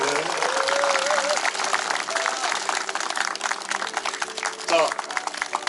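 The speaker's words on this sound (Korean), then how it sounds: "여러분 다 같이 다시 한번 큰 박수 보내주시기 바랍니다" An audience at a memorial ceremony for Jeon Tae-il claps in sustained applause, a dense crowd patter under someone speaking over a loudspeaker.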